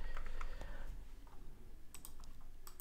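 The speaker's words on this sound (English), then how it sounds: "I'll quickly type in Paris" Quick typing on a computer keyboard, a short run of light clicking keystrokes close by, faint against a low background hum, with no voices.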